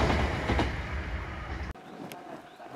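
The SL Hitoyoshi steam train, hauled by a JR Kyushu type 8620 steam locomotive, rumbles past close by with heavy clattering, then cuts off abruptly to quieter distant background with a faint high squeal.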